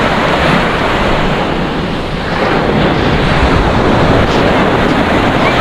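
Surf breaking on a beach at Pundaquit, Zambales, a loud, continuous wash of waves roughened by heavy wind buffeting the microphone, with no talk.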